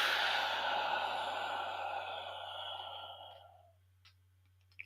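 A long, steady breath blown out through the mouth during a slow 4-4-4 box-breathing exercise, close and soft, tapering away over about three seconds into near silence.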